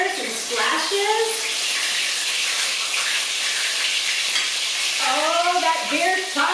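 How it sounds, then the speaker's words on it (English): Beer-battered chile rellenos fry in hot oil with a loud, steady crackling sizzle, close by, while a voice talks at the start and again near the end. "And again, right in our hot oil. We're going to be real careful for splatters and splashes."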